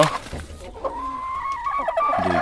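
A hill chicken clucks and murmurs close by with short, uneven calls, while someone talks over them.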